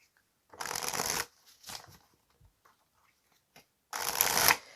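Tarot cards are riffled and shuffled for a reading in three separate papery bursts, two longer ones at the start and end with a brief one between, close and fairly loud against silence.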